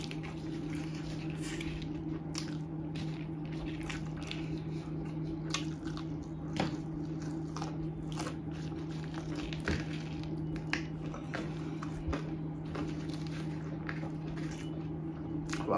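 Big fried chicken wings and lollipops being chewed up close, with scattered wet, crackly bites and smacking clicks spread over a steady low hum.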